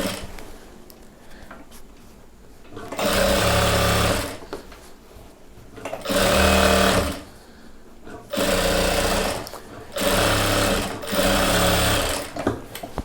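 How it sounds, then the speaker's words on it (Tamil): A sewing machine stitches the bottom of a churidar pant in four loud, close bursts of fast rhythmic whirring, each a second or two long, separated by short pauses. "சுடிதார் பாட்டத்துக்கு வந்து பாட்டம் 4 தையல் போடலாம்."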